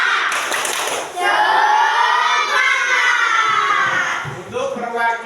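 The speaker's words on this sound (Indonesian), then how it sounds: "Kita tepuk semangat dulu." A classroom of children doing a rhythmic clapping chant led by the teacher, with loud excited voices and patterned claps filling the room, the chanting and shouting mostly drowning out the hand claps.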